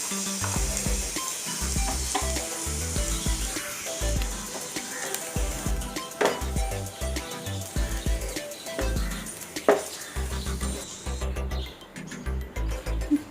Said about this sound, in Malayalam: തേങ്ങ ഇവിടെ നന്നായി വറുത്തെടുത്തിട്ടുണ്ട്.